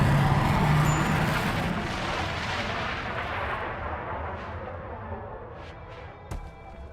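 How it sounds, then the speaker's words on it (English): Flashbang grenade detonating in a Warhammer 40k Space Marine video game, a loud broadband blast at the start that decays into a long rumbling wash, with a few faint sharp cracks later. "Flashbang out."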